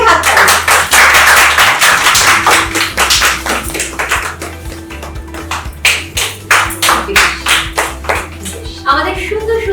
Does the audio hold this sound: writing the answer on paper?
no